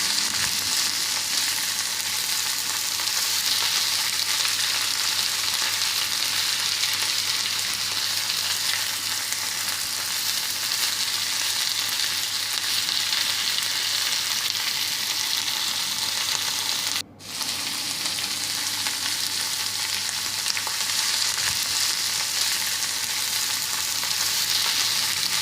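Vegetables frying in oil for a tomato omelette, a steady, even sizzle holding throughout with one brief dropout midway, no voices.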